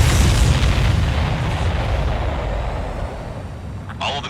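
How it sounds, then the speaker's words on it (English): Missiles exploding in the Ace Combat 7 video game make a loud, dense rumbling blast that rolls on steadily and slowly fades, with a brief chirping tone near the end. "All of the missiles have been destroyed."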